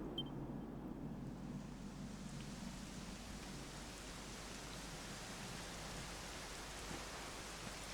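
Steady rainfall in the Dragon Quest video game, a constant, even hiss of falling rain that holds unchanged throughout, with no voices.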